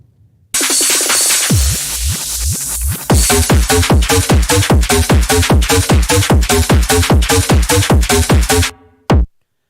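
A loud dance remix of a song plays, a rising sweep building into a driving pulse of steady kick thumps under layered synths, then cutting off with a final hit.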